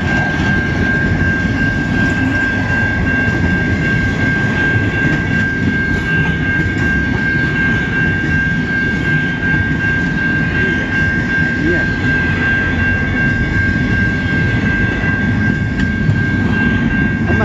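A freight train of empty railcars rolls past in Michigan, a loud, steady rumbling roar with rattling wheels and a sustained high whine running throughout.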